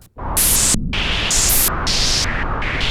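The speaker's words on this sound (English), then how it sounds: "So this is what a stepped random LFO would sound like" Loud synthetic hiss from a DSI Pro 2 synthesizer, shaped by a stepped random LFO, jumps abruptly between brighter and duller tones in uneven steps, like gusty wind made from noise.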